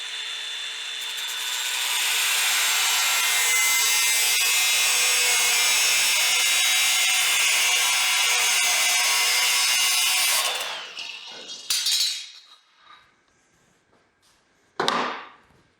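Power saws cut wooden bed boards for a 1966 Ford F100 pickup, giving a loud, sustained whining rasp that builds over two seconds, holds steady, then cuts off into a few short bursts and knocks.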